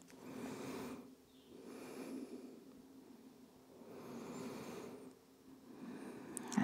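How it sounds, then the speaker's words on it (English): Slow, deep breaths during a child's pose yoga stretch: a few long, soft breathy swells rise and fall close to the microphone, with no speech. "Three deep breaths here."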